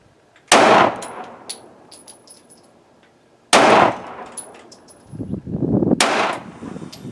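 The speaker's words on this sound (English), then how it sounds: "now I'm shooting high and to the left" Three loud, sharp gunshots from a Taurus G3c pistol ring out at a shooting range, spaced about three seconds apart, each followed by a brief decaying echo and faint clinks between shots.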